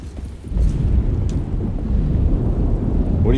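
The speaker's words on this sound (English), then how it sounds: "Just keeping an eye out for the storm." A thunderstorm in Alone in the Dark rumbles as a low, steady roar of wind and distant thunder, heavy in the bass with no clear individual cracks.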